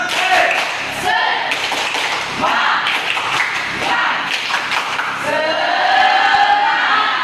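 Students in a classroom perform a rhythmic spirit clap together, groups of hand claps and thuds falling in a steady patterned sequence, with chanting voices and chatter running over them.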